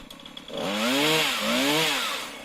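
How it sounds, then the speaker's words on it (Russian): A lightweight Chinese-made chainsaw cuts tree branches in a garden, revving up in two strong, rising and falling bursts close by, alone without talk. "Хорошие сейчас пилы делают, хоть они и китайские, но они хороши тем, что они легкие."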